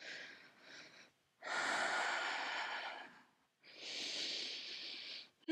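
Slow, deliberate breaths during a yoga exercise, close and clear: a short inhale, then long audible exhales and inhales in a steady in-and-out rhythm, with no talking.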